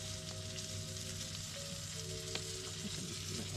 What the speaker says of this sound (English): Add a little more oil, not much. And then we're going to let that brown, which happens pretty quick with garlic.